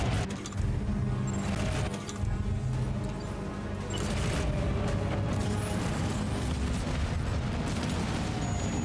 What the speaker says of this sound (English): Oh, it's doing its own fireworks show.